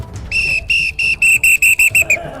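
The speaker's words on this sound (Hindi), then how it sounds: "सीटी बजा रहे हैं" A handheld whistle is blown in a rapid series of about nine short shrill blasts, loud and close, with no talk over it.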